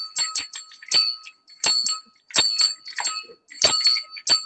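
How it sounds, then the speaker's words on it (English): A struck singing bowl rings out in a quiet room, a series of bright bell-like strikes with clear overtones, each ringing briefly before the next, grouped in quick clusters across the span. "This is the bell of Twilight."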